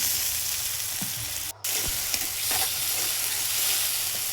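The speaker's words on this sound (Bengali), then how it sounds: "চিংড়ি মাছগুলো দিয়ে ভালোভাবে কষিয়ে নেব।" Prawns, potato and pointed gourd sautéing in a pan with a few peanuts, a dense continuous sizzle with occasional stirring scrapes and a brief dip partway through.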